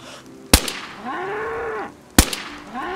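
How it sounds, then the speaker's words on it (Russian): Two cows moo in the survival video game DayZ, each long drawn-out low call preceded by a sharp loud crack like a gunshot, heard clearly with no talk. "Две коровы, это хорошо."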